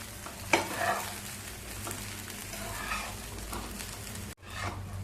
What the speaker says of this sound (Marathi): पुन्हा चांगलं एकदा मिनिटभर हलवून घेऊया